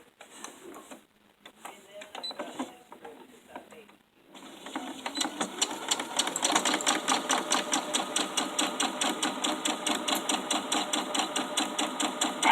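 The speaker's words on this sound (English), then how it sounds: "we're going to sew all the way down on both of them" Sewing machine stitching the lining of small fabric gift sacks, a few uneven starts giving way to a long run of rhythmic mechanical clatter, loud and close.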